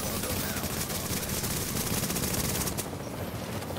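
Rapid bursts of gunfire in a video game firefight against a group of rogues, a dense crackling barrage that runs loud and steady throughout.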